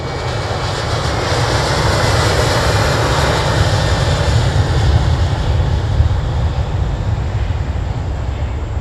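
A jet aircraft arrives on runway 22 at Chicago O'Hare, its engine roar loud, broad and steady throughout as it passes close by.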